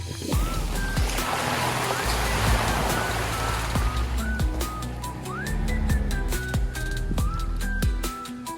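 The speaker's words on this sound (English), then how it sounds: "rinse my hands off in the nice cool creek" Cool, clear creek tumbling past a rock trail crossing near an old decommissioned bridge site in Manitoba, a steady close wash of flowing water with birds chirping and whistling over it throughout.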